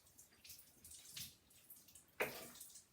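Cheesecloth dampened in water for a fresh cheese: soft splashing and trickling of water from a tap, with a louder wet splash near the end, close and without talk.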